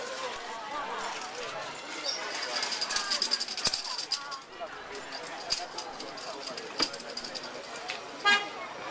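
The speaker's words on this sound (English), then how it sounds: "He honked again." Car horn honking on a busy street market in China, short toots heard among steady street bustle, with voices talking nearby.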